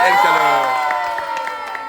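A crowd cheers and whoops loudly, with scattered clapping and high shouts blending into a sustained roar that slowly fades slightly.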